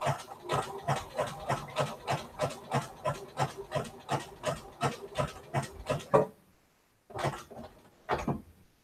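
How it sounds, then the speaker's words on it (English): Sewing machine stitching an appliqué fabric letter onto quilt backing, a rapid, regular run of mechanical stitching pulses for about six seconds, then silence and two short final bursts. "this is just machine appliquing our letter onto our backing"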